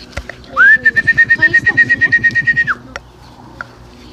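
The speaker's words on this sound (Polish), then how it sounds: "jest następny gołąb" A racing pigeon coos close by in a rhythmic series of pulsing notes, joined by a long whistle-like tone, with faint background sounds after.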